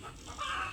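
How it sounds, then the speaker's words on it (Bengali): A chicken inside a house gives a short, faint cluck, a single quick burst with no talk over it. "মুরগি এমন করে তো ঘরে"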